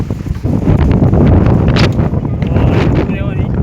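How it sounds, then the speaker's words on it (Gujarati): Strong storm wind in a village buffets the microphone in loud, steady gusts, with a rough low roar throughout and faint voices underneath. "એટલો પવન અહીંયા આવે છે એમ જો"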